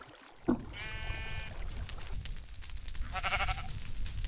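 A sheep in the Minecraft video game lets out two short wavering bleats, one early and one later, over a steady background hum.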